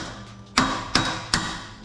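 A hammer strikes a punch three times while long tube headers are installed on a Dodge Challenger, sharp metallic knocks spaced under half a second apart, close and distinct against a quiet garage.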